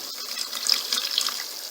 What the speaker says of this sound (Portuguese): Vou colocar um pouquinho de água aqui, só um pouquinho.